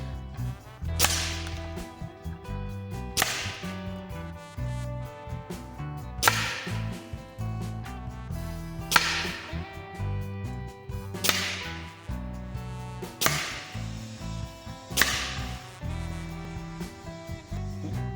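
A Gamo Swarm Magnum Pro 10x Gen3i air rifle fires Shershen pellets at old discs 25 metres away, six or seven sharp cracks spaced a few seconds apart, each followed by a metallic ringing impact, with no talking.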